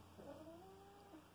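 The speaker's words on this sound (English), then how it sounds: "My cat wants to leave the room now." A house cat meows indoors, wanting to leave the room, giving a single faint, drawn-out meow that rises and trails off over low room hum.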